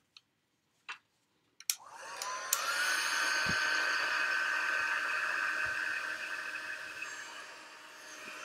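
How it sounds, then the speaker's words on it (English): Heat tool melting embossing powder during a papercrafting session, a steady loud whooshing blower hum that starts after a few faint clicks and taps and runs continuously close by, with a couple of light knocks underneath. "And I'm using a heat tool."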